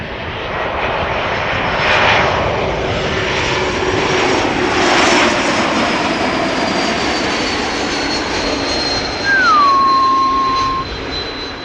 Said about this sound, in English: Geared turbofan whistle, as I'd like to call it.